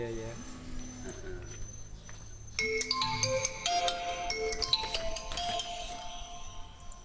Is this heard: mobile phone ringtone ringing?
yes